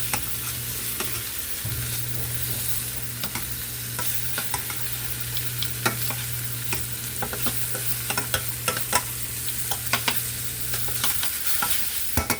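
Oxtails sear in a hot pan, a steady close sizzle with scattered pops and crackles and a few scraping stirs, no voices.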